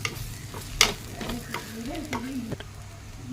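Banana flower thoran with curry leaves is stirred and fried in a pan. A spoon scrapes and taps repeatedly against the pan over a soft, close sizzle, with no talking.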